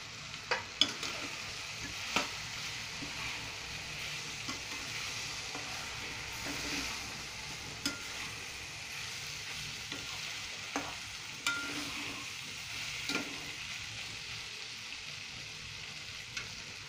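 Small semi-boiled potato pieces frying in a pan, a steady quiet sizzle punctuated by intermittent spatula scrapes and taps through the whole stretch, close, with no talk.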